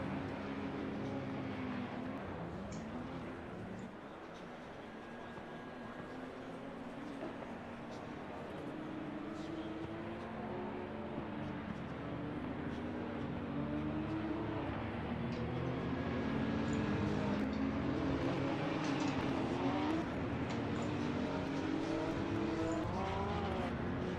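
Porsche Supercup race cars in Assetto Corsa Competizione gathering at the race start, a continuous drone of many engines rising in pitch as they accelerate, steady and fairly loud throughout with no speech.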